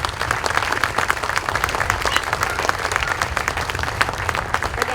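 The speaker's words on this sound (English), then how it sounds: "please hold your applause" Sustained applause from an audience at a Memorial Day ceremony, many hands clapping steadily throughout with no pause.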